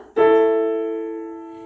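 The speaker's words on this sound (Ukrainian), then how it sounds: "Ось послухайте, як звучить кварта" Two tones forming a perfect fourth struck together and sustained, a clear harmonious interval ringing steadily and slowly fading over a second and a half.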